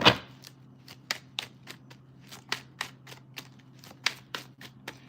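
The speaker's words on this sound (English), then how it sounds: "One more shuffle." Tarot cards are shuffled in a series of quick, crisp riffles and taps, evenly spaced and close by, over a faint steady hum.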